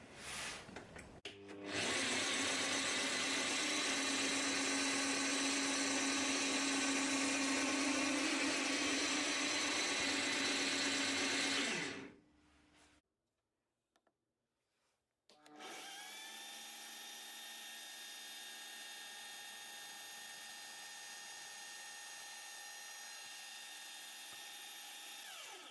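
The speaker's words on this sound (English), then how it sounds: "and now we can drill at this height." A Scheppach DP55 710W bench pillar drill runs loud and steady for about ten seconds, cuts out to near silence, then starts again with a smoother, higher whine that holds to the end.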